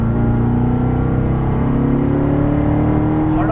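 A Corvette Stingray engine pulls hard out of a turn, with a loud, steady close-up drone and a harmonic pitch that climbs smoothly as the car accelerates.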